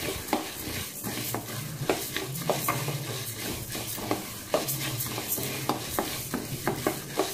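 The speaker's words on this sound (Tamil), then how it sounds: "லைட்டாக வாசம் வர வரைக்கும் வறுத்தெடுங்க, ரொம்ப வறுத்திடக்கூடாது, கருகிடவும் கூடாது." Coriander seeds dry-roasted in a pan for sambar powder, a soft continuous rattle and hiss with frequent quick scraping stirs in a steady, busy rhythm, close and unaccompanied by voices.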